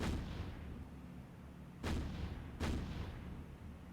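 Destroyer guns fire in the naval combat game War on the Sea, two heavy booming shots about a second apart over a steady low rumble of background battle noise.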